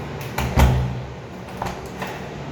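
A door in a renovated unit, swung and shut with a couple of short thuds and knocks, one firmer bump standing out in a quiet room, with no talking.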